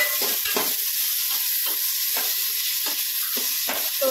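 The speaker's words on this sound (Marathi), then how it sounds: "तर कांदा चांगला फ्राय झालाय, आता त्यामध्ये आपण टोमॅटो ॲड करून घेऊया।" Tomatoes sizzling in a pan of fried onion for Marathi-style mutar pulav, a steady loud frying hiss with a spoon scraping and stirring in a regular rhythm about every half second.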